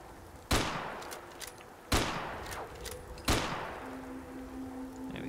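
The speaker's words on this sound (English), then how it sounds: "we'll just do these last 2 rounds and squeeze them off" Three sharp rifle shots from a Fallout 4 weapon, fired hip-style at slow, even intervals, each loud crack followed by a short decaying tail over a steady low background.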